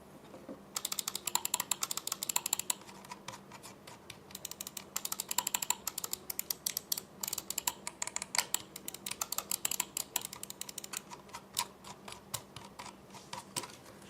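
Rapid clicks from the scroll wheel of a Rexus Shaga gaming mouse, heard close and fairly faint, rattling along in dense bursts with short pauses between them and no other sound around.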